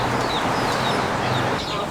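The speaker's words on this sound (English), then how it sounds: "Why are there chickens?" Chickens cluck and chirp amid a busy outdoor scene in Oahu, Hawaii, with a steady low hum and background chatter running throughout.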